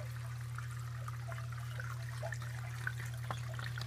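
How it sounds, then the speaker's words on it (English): Water drawn from an aquarium tank through a homemade canister filter and long tubing, a soft steady trickle and gurgle riding over a constant low pump hum, with a couple of faint clicks near the end. "The water starts to be sucked out of the tank, into the filter, into the canister."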